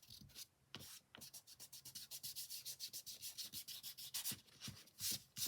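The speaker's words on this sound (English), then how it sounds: "I am going to use my kneaded eraser to erase my guidelines." Kneaded eraser rubbing out pencil guidelines on a practice drawing tile, a faint close series of quick rhythmic scrubbing strokes, some bursts faster than others, with short pauses.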